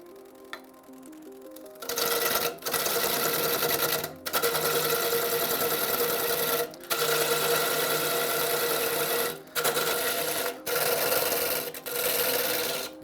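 A wood lathe spins up on a tapered lamp blank, giving a loud, steady broadband shearing whine that runs in long stretches broken by several brief pauses where the cut stops, with no talking.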